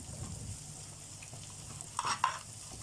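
Garlic and butter with a Maggi stock cube frying in a cooking pot for Syrian shakriyeh: a quiet, even sizzle, then a brief louder stirring scrape near the end.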